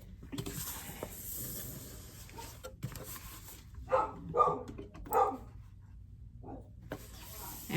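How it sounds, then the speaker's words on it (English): A boxer dog barking indoors, a few short barks in a cluster near the middle, moderately loud, with quiet household sound around them. "I'm gonna assume she's barking because she hears my voice and I'm not downstairs"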